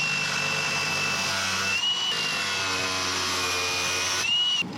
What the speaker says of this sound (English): So I've just die grinded that.